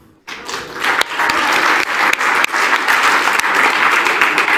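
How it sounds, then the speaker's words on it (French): At an insurance industry awards ceremony, the audience bursts into applause for trophy winners after a brief quiet start, a loud sustained clatter of many hands with a few sharper individual claps standing out. "On peut les applaudir."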